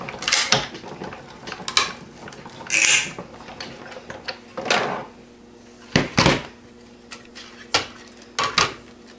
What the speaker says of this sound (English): Clear plate on top, and we're going to crank that through again.